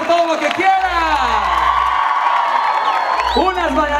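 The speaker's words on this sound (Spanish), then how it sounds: "ahora sí pueden aplaudir y gritar todo lo que quieran" Crowd cheering and applauding at a Super Lamas wrestling show in Tuxtepec, Oaxaca, loud whoops and shouts over steady clapping, mixed with amplified voices and booming bass from the venue.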